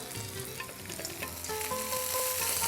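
Chopped onion sizzles and fries steadily in a pan of hot oil for a kadai mushroom dish, a dense continuous crackle that grows slightly louder and brighter toward the end, with occasional stirring, no talking.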